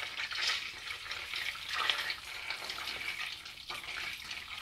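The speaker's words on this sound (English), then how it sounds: "The butter is melting and it is changing colour a bit. I've got it on a fairly high heat." Butter melting in a pan over fairly high heat for a hearty soup, giving a soft, steady hiss and crackle with gentle swells, fairly close and at low level with no talking.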